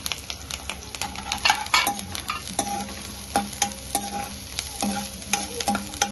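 Onions, green chillies and curry leaves fry in hot oil for chicken manchurian, giving a steady close sizzle broken by repeated scraping stirs and light clinks of a spoon against the pan.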